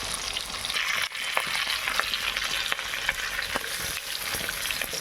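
Pieces of rohu fish fry steadily in hot oil, a dense close sizzle with occasional sharper spits and pops throughout.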